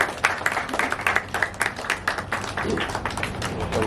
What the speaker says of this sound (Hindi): सबने तालियां बजाई